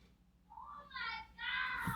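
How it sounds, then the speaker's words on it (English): A young boy yells excitedly in another room over cartoons, his high voice rising in a few quick, strained bursts at moderate distance within a quiet home. "I don't know if you can hear my son in the background yelling at the cartoons he's watching"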